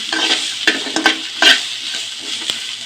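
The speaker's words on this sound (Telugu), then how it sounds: "ఇది ఇలా వేయించుకోండి." Sweetcorn frying and being stirred in a pan, a continuous sizzle close by, broken by several sharp scraping and clinking hits of a utensil against the pan, with no voices.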